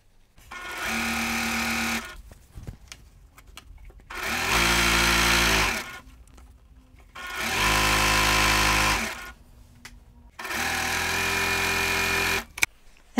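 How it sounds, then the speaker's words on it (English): A sewing machine stitching two fabric strips together with a quarter-inch seam runs in four bursts of about two seconds each, separated by short pauses, loud and close. "I'm going to sew the two strips together, 1/4 inch seam down one side"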